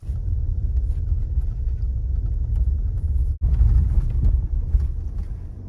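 A 2023 Toyota RAV4 LE AWD driving on beach sand in sand mode, heard as a steady low engine and tire rumble from inside with wind buffeting, briefly cutting out before resuming.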